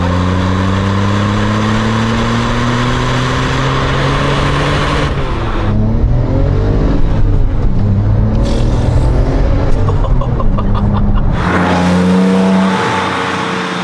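A 2007 Porsche 911 Turbo with manual gearbox revs hard, its engine note rising and falling in loud, close bursts while the turbos spool up, the roar continuing steadily through the whole stretch without talk.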